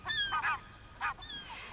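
A goose on a cliffside nest gives several honks in an irregular series, clear and moderately close, with no voices.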